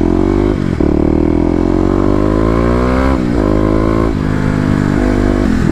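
A Kawasaki KLX250 dirt bike engine revs hard and close, with the pitch rising and falling through several throttle blips and a dip around three seconds, loud and continuous with no talk.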